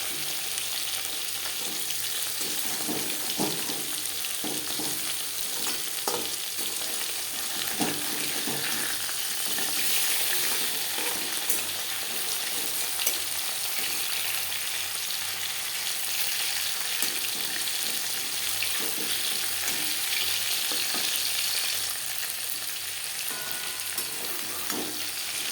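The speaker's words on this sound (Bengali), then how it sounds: "মাছ আমি হালকা করে ভেজে নিলাম।" Fish pieces shallow-frying in a pan for a Bengali mustard fish curry, a continuous bright sizzle with occasional pops and scrapes, steady and fairly quiet throughout with no speech.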